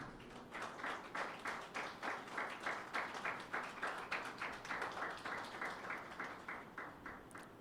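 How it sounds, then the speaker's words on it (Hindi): A church congregation claps together in steady, rhythmic applause, many hands beating in time at a moderate distance and holding the same pace throughout. "यीशु मसीह के लिए तालियां बजाएं।"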